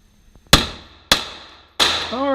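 Three sharp, loud gunshots ring out at an indoor shooting range, roughly half a second apart, each followed by a short echoing decay, with a brief voice at the end.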